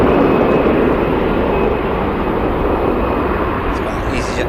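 EasyJet airliner departing Manchester Airport, a loud, continuous broadband jet roar held steady throughout, close and dominant, with a faint thin whine above it.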